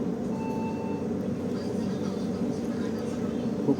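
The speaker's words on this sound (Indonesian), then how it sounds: "kereta api Ijen Express tiba di stasiun Pasuruan" Ijen Express passenger train pulling into Pasuruan station in Indonesia, a steady low rumble with faint tonal whine and a continuous noisy wash throughout, close and even in level, with no distinct clatter.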